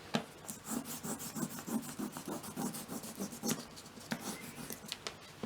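Crayon rubs over a leaf laid under paper in quick, scratchy back-and-forth strokes, close and soft, with an uneven rhythm of short rasping pulses and no talking.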